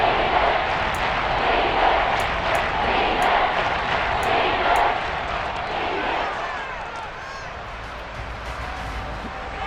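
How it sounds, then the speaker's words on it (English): A stadium crowd roars in Madden NFL 23 during a tense third-down moment, a broad sustained swell of cheering that eases off midway, with commentary voices heard over it. "the crowd getting into it as we come up on a big 3rd down"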